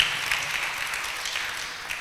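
An audience applauds Mata ji at a Jain religious discourse, a steady, dense patter of clapping that holds evenly throughout.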